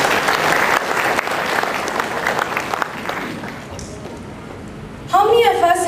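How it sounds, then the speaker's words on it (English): Audience applause after a performance at a speech event, a sustained crowd clapping for about five seconds that thins out before a voice begins talking. "Another round of applause,"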